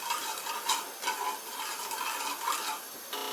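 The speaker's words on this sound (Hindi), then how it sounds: "बीच बीच में चलाते रहिएगा इसको।" Sugar syrup for coconut paag is stirred in a pan, light scraping and soft ticking of a spoon against metal, faint and irregular with brief clinks and no voices.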